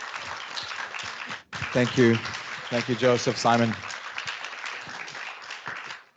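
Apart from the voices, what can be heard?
audience applause for the panelists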